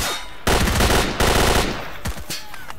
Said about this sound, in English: Okay, we are now shooting.